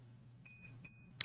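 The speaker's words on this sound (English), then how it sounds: "pardon the beeps if you hear that." Faint electronic beeps: a few short, thin tones repeat over a quiet background hum, then a brief, sharper chirp near the end.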